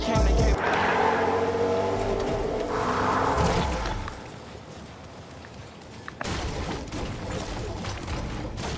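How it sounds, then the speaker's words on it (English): Cars in the Fortnite video game, heard as a loud engine roar with revving and whooshing that fades to quieter rumbling midway, then another burst of engine noise, all over steady game ambience. "Cars are still here."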